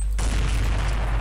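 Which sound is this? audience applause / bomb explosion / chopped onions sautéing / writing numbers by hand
bomb explosion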